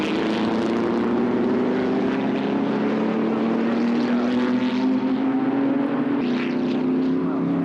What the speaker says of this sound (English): And here's the winner coming round, Mac Hulbert, who won the race doing 12 laps